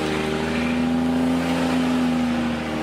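A Cummins diesel engine fitted with an S464 Smeding turbo runs loud and close, a steady revving drone with a sustained tone through the middle, with no talking.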